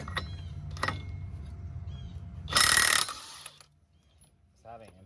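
Impact wrench removing the axle nut on a muddy Polaris ATV: a loud broadband burst of rattling hammering lasting about a second, with lighter mechanical clatter before it and a short quiet voice afterward.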